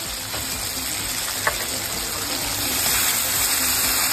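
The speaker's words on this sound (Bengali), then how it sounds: "এখানে একটু পানি দিয়ে দেবো।" Water poured into a pan of spices being fried on low heat gives a steady, hissing wash of sound that swells slightly toward the end, with no talking.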